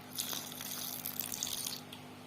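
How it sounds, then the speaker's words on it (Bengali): Warm water poured in a steady near trickle into flour dough being kneaded for Mughlai paratha, a continuous splashing stream lasting a couple of seconds. "তো আমরা আবারও কিছুটা জল দিয়ে দিচ্ছি।"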